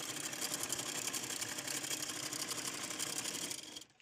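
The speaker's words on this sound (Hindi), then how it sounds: "तो अब मैं सिलती हूँ कपड़े" A household sewing machine in a village home stitches clothes with a continuous, fast whirring hum that runs steadily near the mic, then winds down and stops at the end.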